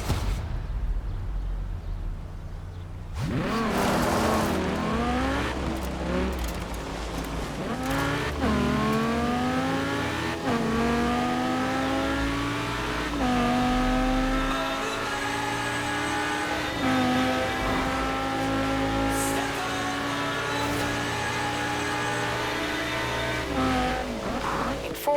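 Stunt car in Forza Horizon 4: a loud, steady engine roaring and revving through rising and falling gear shifts, with tire squeals, continuous for the whole stretch.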